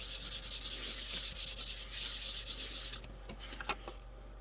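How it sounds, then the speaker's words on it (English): Sandpaper rubbing back and forth over spray-primed paint on a small metal scale-model part, a steady close scratchy rasp for about three seconds, then a few lighter, broken strokes. "Let's see how it sands the paint, how durable that is."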